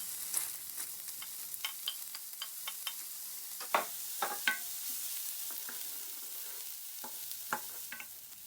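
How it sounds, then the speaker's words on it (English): Garlic, ginger and onions sauté in hot oil in a wok, giving a soft steady sizzle broken by scattered spatula clinks and stirring scrapes, close and fairly quiet. "Let's heat up the wok with some oil and saute the garlic, ginger, and onions first."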